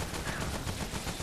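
Brief rapid gunfire from a player in Remnant: From the Ashes, shooting a stuck enemy, comes as a quick, steady run of close, loud shots packed into about one second.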